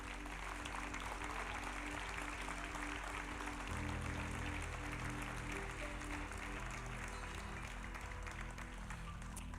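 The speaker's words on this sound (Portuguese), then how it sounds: "Você pode aplaudir ao Senhor?" A church congregation applauds at a worship service, a steady, dense wash of many hands clapping together that holds for several seconds over a faint low hum.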